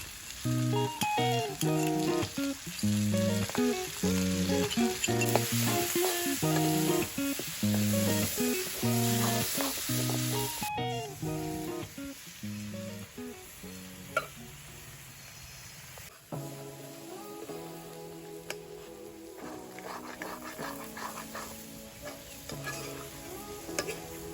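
Ginger garlic paste frying in a pan in an Assam village kitchen, a steady hiss and stirring scrapes heard under loud rhythmic background music throughout.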